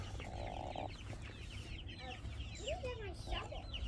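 Chickens on a farm cluck and squawk in repeated short calls, with a rooster mixed in, over steady background noise and faint voices.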